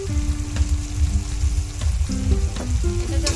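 Spices sautéing with onion and tomato in a pan, an even sizzle under low rumbling and a sustained tonal hum, with occasional stirring clicks.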